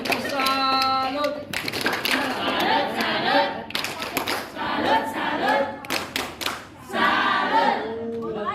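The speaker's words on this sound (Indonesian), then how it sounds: "Kalau diucapkan tepuk salut, terima kasih." Children perform a rhythmic salut clap at a school group presentation, sharp hand claps in patterned bursts mixed with shouted chanting voices, fairly loud and close throughout.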